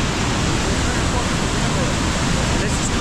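Constant rushing river water beside a lodge on the Langtang mountain trek in Nepal, a loud, dense, unbroken roar close by, with no clear voices over it.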